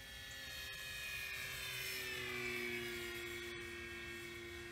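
Flex Innovations Mamba 10 RC airplane flying overhead, its electric motor whine steady and fairly faint, rising slightly in the middle and fading a little toward the end.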